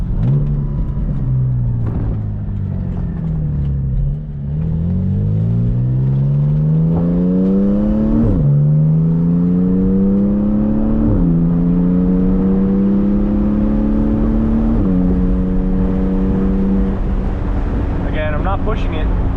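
A Porsche 718 Spyder with PDK gearbox accelerating hard from inside the cabin, the engine note rising in loud sweeps with several quick upshifts, under heavy wind rumble and someone talking.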